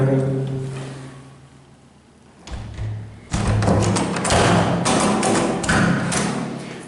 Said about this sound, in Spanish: Puerta abriendo y cerrando suavemente.